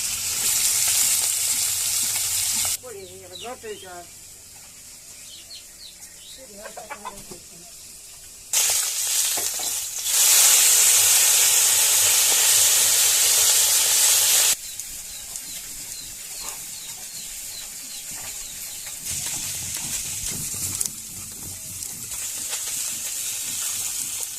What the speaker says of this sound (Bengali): মাছ ভাজা হয়ে গেছে আমার।